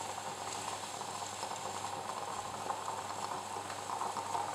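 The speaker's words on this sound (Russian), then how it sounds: "Вот он закипел." Coffee bubbles and hisses in a stovetop geyser moka pot, a faint, even gurgling simmer that runs steadily on its own with no talk.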